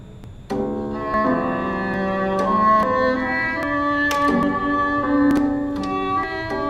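Gentle, quiet melodic game-style music with sustained tones and soft plucked notes, playing steadily on its own without any voices.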